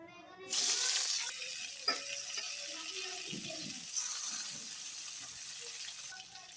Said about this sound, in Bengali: কড়াইতে তেলটা দিয়ে দিয়েছি, ওলটা দিয়ে দেব। ওলটা আমি আগে ভেজে নেব।